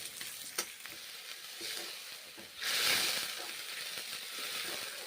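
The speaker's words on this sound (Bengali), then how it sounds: "মশলা এইভাবে কষে নিচ্ছি মশলা" A spice paste of fried onions and ground cumin, loosened with a splash of water, is stirred and fried in a pan for a rohu fish curry, giving a close hissing sizzle that swells sharply midway, with soft stirring scrapes.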